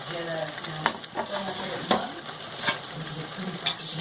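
Onions and vegetables, including a stalk, fry and get stirred in a pot for a Peruvian-style pot roast, a quiet, steady sizzle broken by irregular spoon scrapes and taps, close and fairly soft with no speech.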